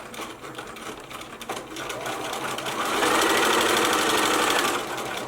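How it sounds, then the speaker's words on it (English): A sewing machine runs steadily while stitching a zipper in place, its fast rhythmic needle chatter close and continuous, growing louder and busier for a couple of seconds near the end before easing back slightly. "And then you just sew."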